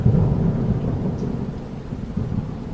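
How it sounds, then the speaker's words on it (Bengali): Monsoon night rain with deep rolling thunder in a Bengali horror cartoon, a loud continuous low rumble over steady downpour, close and unbroken throughout, no speech. "বর্ষাকালের বৃষ্টি যেন কিছুতেই থামছে না।"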